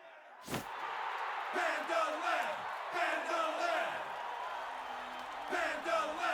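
Arena crowd in the video game Octopath Traveler II, a steady roaring cheer with rising whoops and bellows after an opening slam, loud and continuous throughout.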